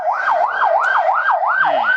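An emergency vehicle siren wails outside a shop front, a loud, steady up-and-down electronic tone cycling about every quarter second, continuous and alone.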